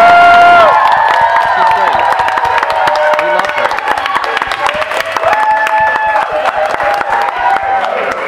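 A live theater audience bursts into loud cheering and applause, sustained clapping and whoops filling the room for several seconds after an opening voice.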